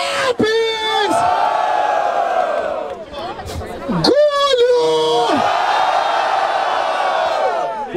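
A crowd at the Batalha da Aldeia freestyle rap battle in Barueri, Brazil, roars with loud, sustained shouts, whoops and yells that swell and dip, close and dense throughout.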